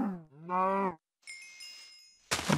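A Minecraft cow gives two drawn-out, tonal moos in quick succession. A thin steady tone and a short burst of noise follow, with no talking.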